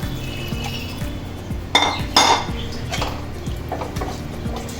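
Canned fish curry with coconut milk stirred in a metal pan, light scraping and clinking of a spoon against the pan with brief louder knocks over a constant background hum.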